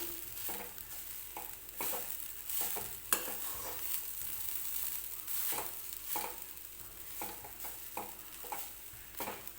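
Grated coconut is stirred and roasted in ghee in a pan, giving a soft continuous sizzle broken by repeated scraping strokes of the spoon.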